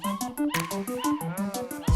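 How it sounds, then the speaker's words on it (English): A dog on a farm in Uganda gives a quick run of short yelping barks and whimpers, close and fairly quiet, without talk. "But also they have dogs"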